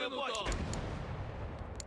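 A deep ship cannon boom in a pirate video game hits early, followed by a rumbling low roar and scattered sharp cracks, all loud and close.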